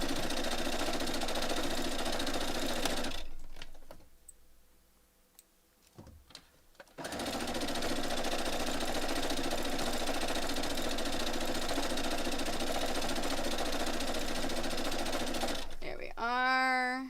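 A home sewing machine runs steadily while stitching quilt block pieces for a pixelated Halloween quilt, a loud continuous motor whir that stops for a few seconds, restarts, and then gives way to a brief high warbling sound at the end.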